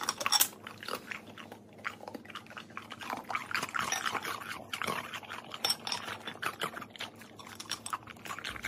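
Golden retrievers chew and crunch on homemade paw-shaped dog treats, close-up biting and gnawing with irregular crunchy bursts and wet mouth sounds, no talk.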